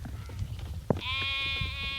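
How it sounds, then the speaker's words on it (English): A large sheep on a farm near Eskra gives a single long, clear bleat that starts partway through and holds to the end, preceded by a brief knock and low background rumble. "There's a big sheep that was bought in September."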